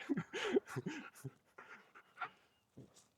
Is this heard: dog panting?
yes